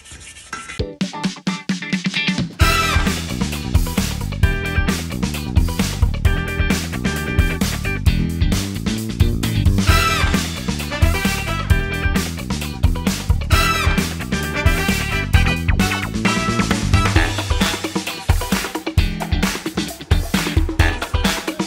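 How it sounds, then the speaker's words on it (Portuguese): Iron wheel being wet-sanded by hand with sandpaper over primer, a continuous rhythmic rasping scrub of quick back-and-forth strokes, close and fairly loud. "Vamos lixar."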